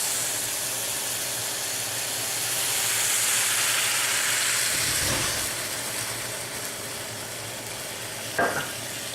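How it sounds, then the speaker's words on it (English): Cherries with brown sugar and vanilla sizzle in a pan as brandy is flamed, a continuous loud hiss that swells with a soft whoosh, followed by a brief clink. "we're going to flame it with the brandy"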